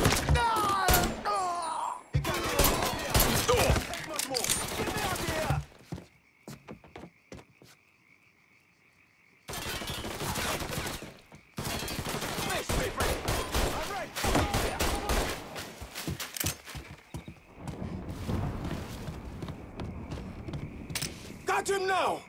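Gunfire in the Mafia 3 video game comes as rapid bursts of shots among loud chaotic combat noise, pausing in a quieter stretch with a sustained tone before the shooting resumes.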